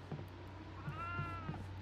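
Goats bleating in the horror video game Devour: one drawn-out, wavering bleat rises over a low steady hum, fairly faint, with a few soft knocks around it.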